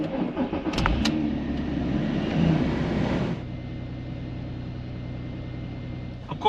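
Audi TT mk1 3.2 V6 starts after an oil pressure sensor replacement: a brief cranking catch, then a loud revving burst that settles into a steady, lower idle hum close by.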